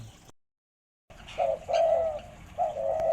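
Repeated low, hollow dove coos in short phrases after a brief silence, fairly close and clear, with faint background noise.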